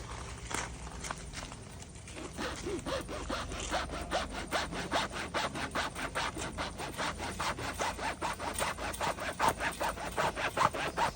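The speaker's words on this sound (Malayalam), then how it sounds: "അടുത്തതായി നമ്മളിതൊരു ആക്സോൺ ബ്ലേഡ് എടുത്തിട്ട് കട്ട് ചെയ്ത് നോക്കുകയാണ്" A hacksaw blade cuts through an Anza football boot in steady, rhythmic back-and-forth strokes that grow quicker and louder after a brief pause, close by, with no talk.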